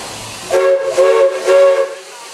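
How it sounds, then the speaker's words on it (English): Walt Disney World Railroad steam train at the Magic Kingdom station gives three loud, close whistle blasts with a harmonic tone, each about half a second long, over a low background hiss. "Walt Disney World Railroad now departs for a grand circle tour around the Magic Kingdom"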